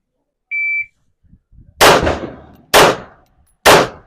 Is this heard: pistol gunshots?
yes